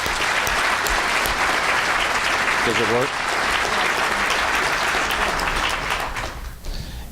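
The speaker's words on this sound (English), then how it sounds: "you deserve a round of applause" Audience applause fills a hall at a staff appreciation event, loud and steady for several seconds before tapering off near the end, with a brief spoken question heard over it.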